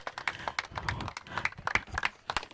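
An audience at a cricket tournament's final prize distribution claps in brisk, uneven applause, with many hands striking at once in a lively, close patter.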